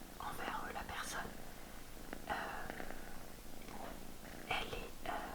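A cat purrs softly while being stroked as it sleeps in an animal shelter, a low steady rumble running under close, whispered talk throughout.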